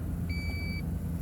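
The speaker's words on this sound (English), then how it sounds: "You'll hear that beep, and now you've set your seat position." A single clear electronic beep confirms the memory setting of a Toyota's seat position, about half a second long and sounding over a low, steady engine rumble inside the car.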